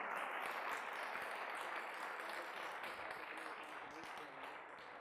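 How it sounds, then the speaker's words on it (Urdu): A church congregation applauds, a steady wash of many hands clapping at moderate distance, fairly faint and fading slightly toward the end. "زوردار تالیاں بجائیں، یسوع کے نام کو جلال دیں"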